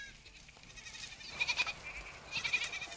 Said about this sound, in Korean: 코코넛과 함께 떨어지는 잎을 보고 달려드는 염소들.